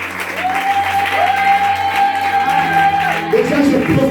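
A church congregation at a worship service applauds and cheers in a sustained wave of clapping and voices, with a held tone sounding over the crowd.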